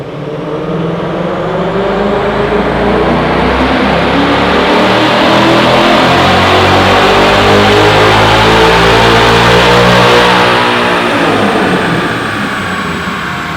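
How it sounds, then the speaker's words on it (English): A Ford Mustang Dark Horse with a Steeda X-pipe exhaust and a cold air intake revs hard on a dyno, its loud engine note climbing steadily in pitch, holding near the top, then easing off. "Let's get on the dyno."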